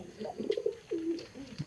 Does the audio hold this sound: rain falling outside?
no